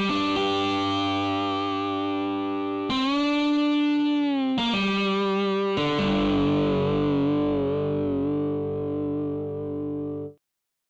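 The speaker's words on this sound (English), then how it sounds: "this will give me a sort of saturated sound so that that acoustic guitar" An acoustic guitar processed into a distorted, saturated lead tone plays sustained notes in several phrases, buzzy and thick, ringing out before cutting off.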